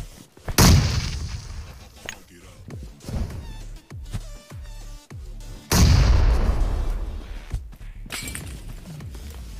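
Grenades explode in the mobile game BGMI with two heavy, booming blasts several seconds apart. Between them come smaller thuds and crackling debris, all close and loud.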